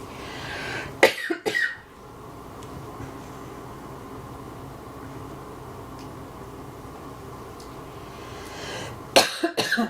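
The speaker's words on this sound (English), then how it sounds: "I need to cough." A woman coughs a few times during a live yoga class, first near the start and again at the end, with a quiet hiss of room noise in between.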